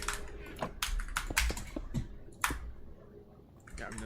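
Keys on a computer keyboard clatter in quick irregular bursts of clicks, close to the mic, with a voice speaking over parts of the typing.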